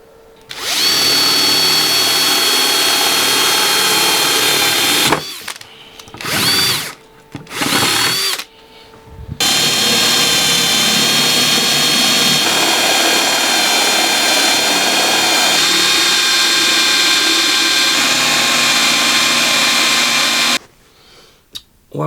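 A loud power tool sanding a guitar body whines and grinds steadily, cutting out briefly a few times in the middle before running on at full strength.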